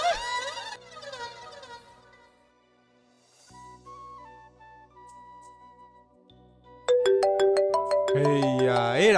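A mobile phone plays its ringtone for an incoming call, a melodic electronic tune of steady tones that turns noticeably louder and busier near the end, with no voices.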